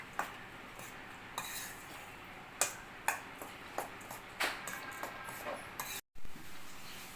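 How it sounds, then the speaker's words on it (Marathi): A spoon stirs salt and other ingredients together in a bowl for methi sticks, making a scattered series of light metallic clinks and scrapes against the bowl, close and fairly quiet, with a short silent gap near the end. "हे साहित्य सुरुवातीला आपण सगळं मिक्स करून घेऊया."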